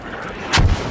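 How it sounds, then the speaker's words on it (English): A mortar bursts nearby in a combat zone, a single loud, sharp blast with a deep rumbling tail over steady background noise. "You're laughing at mortars 2 meters away"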